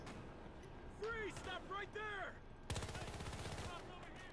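A gun hip-fired in Battlefield, heard as a dense burst of rapid shots in the second half, preceded by chirping, swooping electronic tones, with faint background talk.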